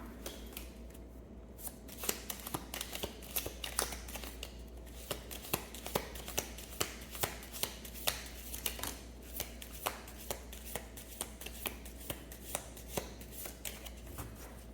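Tarot cards shuffled by hand in a quiet room, a long run of crisp, regular riffling clicks and snaps, close and fairly soft over a low steady hum.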